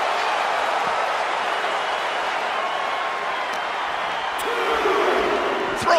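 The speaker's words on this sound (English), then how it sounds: "The sound of this crowd is deafening" A wrestling arena crowd roars as a dense, steady wall of noise during The Great Khali vs Chyna Iron Man match, with a few sharp thuds and a swell near the end.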